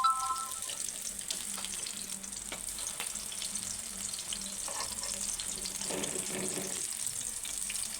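Mutton keema balls frying in hot oil give a steady, soft sizzle that runs throughout at moderate level, with occasional faint stirring clinks and bubbling.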